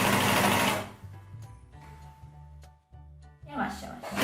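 A sewing machine stitches a t-shirt collar through thick layered fabric, steady humming runs broken by short stops, with someone talking over parts of it.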